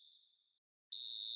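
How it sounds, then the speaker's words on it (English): Referee's whistle in a football video game signalling half-time: a fading tone, a short silence, then one loud, steady whistle blast heard alone. "And the whistle goes for half-time"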